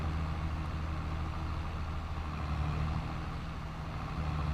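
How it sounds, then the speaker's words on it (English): A JCB machine in Farming Simulator 22 idles with a steady, deep tractor-like engine drone, constant and fairly loud throughout, with no voices. "I'm sure glad they made the JCB sound like a tractor instead of a golf cart."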